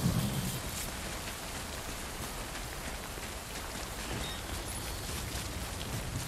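Steady rain falls in the Death Stranding video game, a dense, even hiss of drops on surfaces that continues without pause and without voices.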